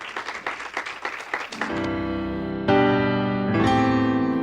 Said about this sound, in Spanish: Le des ofrenda de palmas al Señor